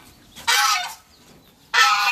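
Chickens on a ranch give two loud, close bursts of squawking calls, each lasting over a second with a short quiet gap between them.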